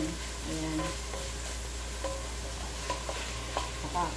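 Onions frying in a pan for jambalaya are stirred with a utensil, giving a steady low sizzle with light scraping clicks scattered throughout, close and moderately quiet, with no talking.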